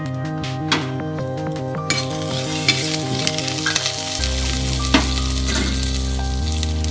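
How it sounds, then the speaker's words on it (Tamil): Cumin seeds fry in hot sesame oil in a pan for a Tamil chicken soup, a steady close sizzle with a few light utensil clinks and no talking. "சீரகம் பொரியட்டும்"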